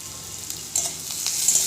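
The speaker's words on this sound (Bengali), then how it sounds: "পেঁয়াজগুলো অল্প অল্প লাল লাল ভাজা হয়ে গিয়েছে।" Onions and green chillies sizzle in a pan of oil for a red amaranth stir-fry, a close, even hiss that swells with brief stirring scrapes near the end.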